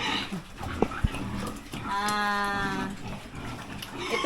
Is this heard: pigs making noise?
yes